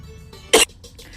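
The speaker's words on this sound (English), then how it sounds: "I had a little cough" A single short, close cough cutting through an otherwise quiet room with faint background hum.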